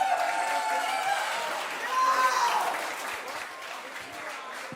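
An audience at a live music competition finale applauds a performer, a moderate wash of clapping with some cheering that swells midway and then thins out gradually.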